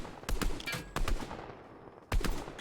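Gunfire in Fortnite: three sharp, close bursts of rapid shots separated by short pauses, loud against a quieter game background.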